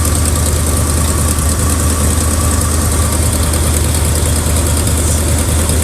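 An abandoned 1979 Chevrolet engine idles close by, with a loud, continuous low rumble and a slight misfire under it, and nobody talking.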